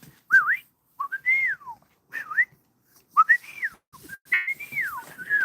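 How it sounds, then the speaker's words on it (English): A whistle sounds in a series of short, sliding melodic chirps with pauses between them, rising and falling in pitch, close and clear with no other sounds around it, as if calling a pet. "You could try your whistle."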